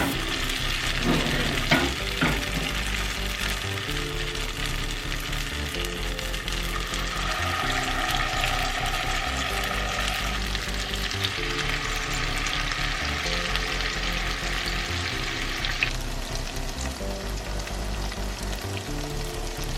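Jamaican saltfish fritters fry in a hot pot with a continuous close sizzle and crackle, joined by occasional light scraping of a utensil through the batter and oil.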